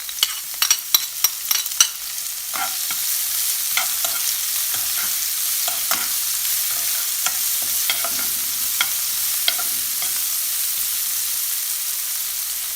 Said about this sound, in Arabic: هسه راح احمس البصل